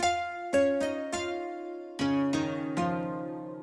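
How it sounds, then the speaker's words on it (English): Harpy Line synth patch from the Xpand plugin, a plucked tone blending guitar and harp, playing a short run of bright picked notes that ring and decay, heard alone and close. "We got a sound that's called Harpy Line."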